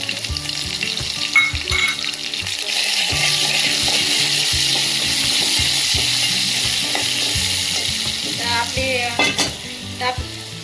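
Crushed garlic frying in hot oil in a pan, a loud, continuous sizzle with clanking stirring strokes, close and unbroken.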